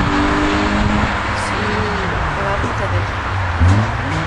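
A Citroën Saxo VTS rally car engine roars past at speed during a slalom at Brignoles, revving and shifting with a rising surge near the end, amid outdoor noise and some nearby chatter.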